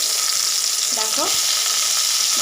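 Potatoes for a meat curry frying in a pan, a loud, dense, even sizzle that holds steady throughout, with a brief scrape of stirring partway through.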